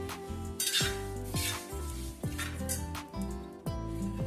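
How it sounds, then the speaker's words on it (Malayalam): Sesame seeds crackle and pop as they roast in a hot pan while a metal spoon scrapes and stirs steadily, the clatter continuing throughout. "എള്ള് മൂത്ത് കഴിയുമ്പോഴാണ് ഇങ്ങനെ പൊട്ടുന്നത്."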